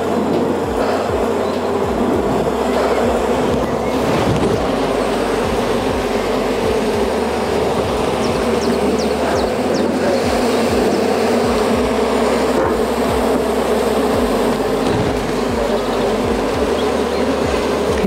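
Honey bees buzz in a dense, continuous swarm around a nuc hive that is being opened and smoked, the drone close and steady throughout with no voices.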